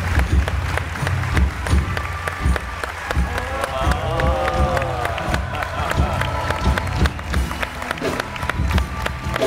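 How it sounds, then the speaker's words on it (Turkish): Studio audience applause and crowd noise fill a Turkish TV talk show set, a steady dense patter of clapping running the whole stretch with a faint tonal sound partway through. "Alkışlarla cevap verelim sevgili Elazığlılara."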